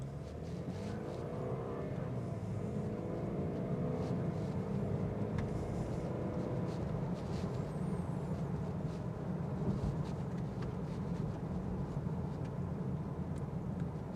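A steady, smooth low rumble of road and engine noise inside a 2025 Lexus IS 300 Premium, a rear-wheel-drive sedan on 19-inch wheels, cruising evenly on a road with no pauses.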